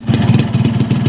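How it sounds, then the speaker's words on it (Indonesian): A cold two-stroke motorcycle engine runs steadily after being started, with a loud, rapid popping exhaust pulse and rattly clatter, close by and with no talk. "Ayo kita hidupin dulu mesinnya."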